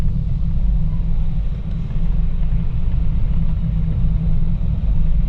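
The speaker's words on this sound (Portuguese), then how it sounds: "eu vou abrir aqui um pouco o vidro e depois eu vou fechar" Steady low road rumble and wind roar from a moving Honda ZR-V SUV with a window partly open, a constant broadband drone with no talking.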